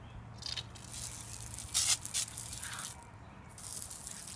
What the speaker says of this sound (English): you start spraying, just like this.